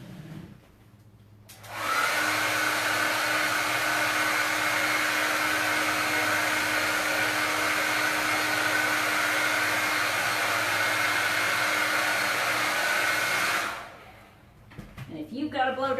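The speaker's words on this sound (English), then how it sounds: "I think right now I'm going to do a little blow drying" A hair dryer blows steadily on a wet canvas painting, switching on loud after a brief pause, holding a constant whirring hiss with a faint motor hum for about twelve seconds, then cutting off.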